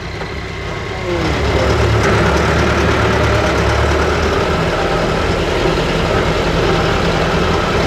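Old smoky T-40AM tractor engine idling outdoors, a steady rough diesel rumble that swells up after the first second and then runs continuously, close and loud with no talk.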